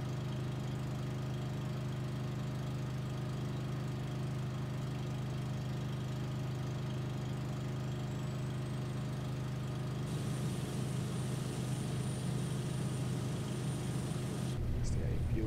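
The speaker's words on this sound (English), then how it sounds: "As the APU is going on." The APU of a Boeing 757-300 runs at the gate in the Prepar3D flight simulator: a steady, low, continuous mechanical hum that turns into a rougher, hissier whine partway through, with faint voices underneath.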